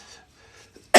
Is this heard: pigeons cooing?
no